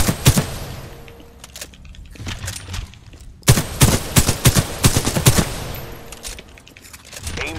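Video game gunfire in a shooting tutorial: bursts of rapid shots crack in quick clusters, with a dense volley near the middle, loud and close against a faint game backdrop.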